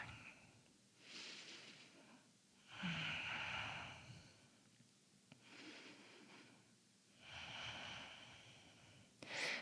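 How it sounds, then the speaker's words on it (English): Slow, easy breaths during a vinyasa yoga pose, about four long airy inhale and exhale cycles, close and soft, with no talking. "Just a few slow, easy breaths."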